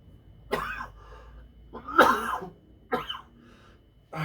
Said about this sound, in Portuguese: Começou uma tosse, mas eu tô melhorando.